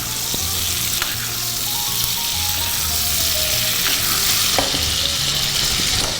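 Steak searing in a pan of melting butter with herbs, salt and pepper gives a loud, continuous close sizzle and crackle with occasional sharp pops, heard alone without talking.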